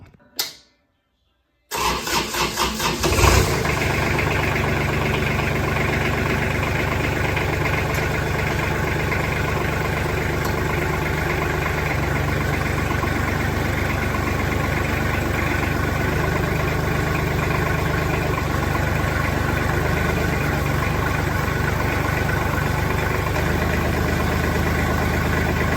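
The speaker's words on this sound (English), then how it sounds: "turn it on and see if the four-wheel drive is going to work" A Kubota tractor cranks and catches after a four-wheel-drive repair, then settles into a loud, steady diesel idle that drones on unbroken and close by.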